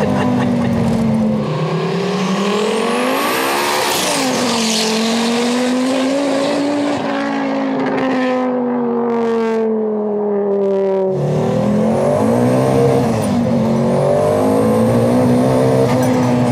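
A 920 hp Audi Quattro with an all-wheel-drive five-cylinder engine revs loud and close, its pitch climbing and falling through several long sweeps, dropping briefly near the middle, then surging again.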